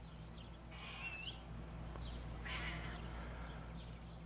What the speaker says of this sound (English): If you're with me for the first time, George is my cat.